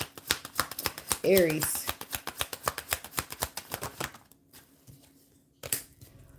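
Tarot cards are shuffled in quick, dense riffling clicks for about four seconds, close and crisp, while someone talks over them; the pattering then stops and only brief speech remains.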